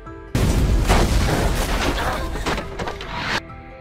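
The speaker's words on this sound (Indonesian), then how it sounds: "helikopter itu pun jatuh dan meledak hingga menghancurkan fasilitas." A helicopter crashes and explodes in a loud, sustained blast that rumbles and crackles for about three seconds with debris-like crashes, then cuts off abruptly.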